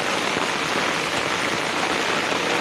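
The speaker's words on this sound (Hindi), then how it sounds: "ज़्यादा बारिश की वजह से इतना पानी होता जा रहा है" Heavy rain pouring down on a flooded street, a dense, even hiss of water with no gaps and no voices, loud and close throughout.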